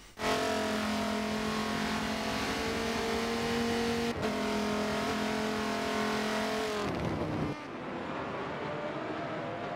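An HRT Cobra race car in an endurance race roars past fast, its loud, steady high-pitched engine note holding for several seconds before cutting off abruptly near the end and giving way to a lower, rougher engine drone.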